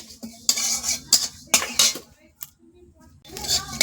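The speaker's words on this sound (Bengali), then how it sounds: "এগুলো এখন আমি ভেজে নেব কড়াই দিয়ে দিলাম একটু লাল লাল করে ভেজে নেব" Metal spoon scraping and clattering against a wok in quick bursts as dry spices are tossed and stirred, close and crisp.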